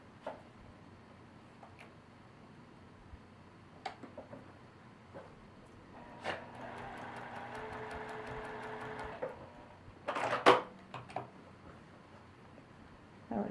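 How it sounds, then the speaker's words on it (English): A sewing machine stitches a seam on a quilt block, heard as a quiet, steady mechanical whir lasting a few seconds, set among faint taps and small handling noises in a quiet room. "we're going to stitch on the line between A1"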